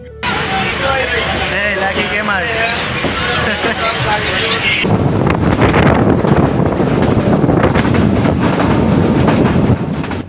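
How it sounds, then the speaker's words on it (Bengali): A passenger train travelling from Daulatpur to Kushtia rumbles loudly with rattling carriages and microphone wind noise heard from on board. Voices mix in during the first half, then the rolling clatter grows heavier. "ট্রেনে ওঠার পরে ট্রেনও ছেড়ে দিছে অলরেডি আমরা আমাদের গন্তব্যের দিকে কেবল রওনা হয়ে গেছি"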